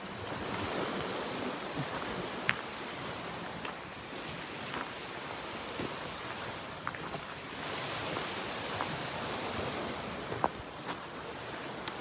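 Steady wash of water against a shore, broad and continuous, with small splashes and clicks now and then; no voices.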